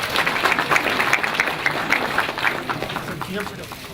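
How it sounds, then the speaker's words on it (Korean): Audience clapping at a provincial governor's town-hall meeting with residents, a moderately loud patter of many hands with some distinct individual claps, steady throughout and gradually easing toward the end. "또 박수 부탁드리겠습니다"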